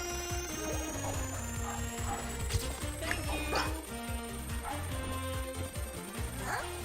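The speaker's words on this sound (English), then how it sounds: "my dog's making noise" A pet dog barks and whimpers in short, scattered yelps at moderate distance, set under steady music from A Hat in Time.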